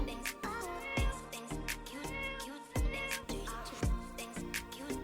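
A domestic cat meows in a series of tonal calls over about five seconds, each cry rising and falling with a soft, close, moderately loud sound against a busy background.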